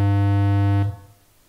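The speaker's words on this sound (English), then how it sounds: "125 hertz is what you hear on your side of the wall" A steady, loud 125 hertz bass tone hums alone with rich overtones, then cuts off abruptly, leaving a faint low rumble.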